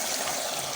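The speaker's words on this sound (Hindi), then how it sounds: "इसमें थोड़ा मैं पानी डालूंगी" Water poured into a pot of potato and egg curry, a soft, steady splashing trickle that is brief and fairly quiet, with no talking over it.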